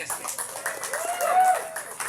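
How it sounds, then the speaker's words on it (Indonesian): A community gathering in an Indonesian village applauds the village head, a short burst of scattered clapping mixed with voices and chatter from the crowd. "Tepuk tangan buat Pak Kades"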